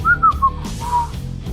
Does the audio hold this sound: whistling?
yes